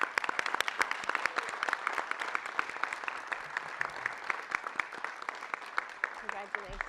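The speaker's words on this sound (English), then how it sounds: "let's have a huge round of applause for our district winner" An audience at a school committee meeting applauds a district winner, a dense, steady round of clapping from a room full of people lasting several seconds, with a few faint voices underneath near the end.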